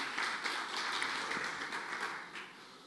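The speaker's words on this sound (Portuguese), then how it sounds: "Vamos receber ele com uma salva de palmas." Church congregation giving a sustained round of applause, dense steady clapping filling the whole stretch with no talk over it.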